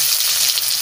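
Chili hits hot oil while a taro-leaf dish is being cooked, giving a short burst of bright sizzling hiss that is heard alone.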